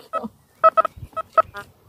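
An XP Deus 2 metal detector sounds a series of short, sharp electronic beeps in an uneven rhythm, its tones signalling an iron target, close and clear with no talking.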